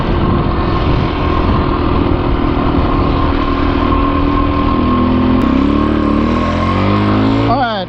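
A Husqvarna TE250 dirt bike is being ridden, its engine droning loud and close at a steady pitch before shifting and revving toward the end, with a voice talking over it.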